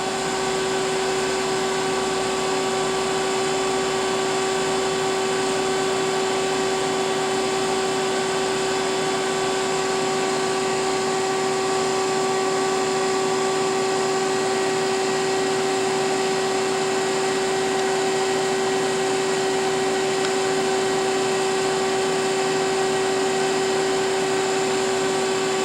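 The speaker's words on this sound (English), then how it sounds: "The RF generator turned on" A March Instruments PX-250 plasma etcher runs with its RF generator on, giving a steady, unbroken hum with fixed tonal whines and an even broadband hiss at constant loudness throughout.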